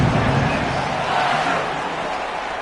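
Stadium crowd noise in a college football video game, Texas Longhorns against Arkansas Razorbacks, a broad steady roar that fades slightly toward the end, with no clear talk over it.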